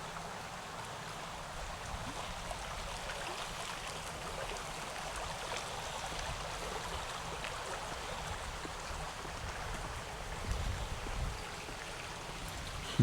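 A river runs through old-growth Tasmanian forest, giving a steady, even rush of flowing water with no voices and little change in level.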